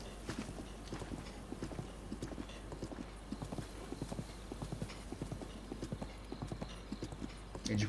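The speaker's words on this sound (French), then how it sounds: "Même le bruit du cheval, du coup, je pense qu'il galope" Horse hooves clip-clopping at a steady gallop-like rhythm in The Legend of Zelda: Breath of the Wild, continuous and fairly close, with a faint whinny near the end.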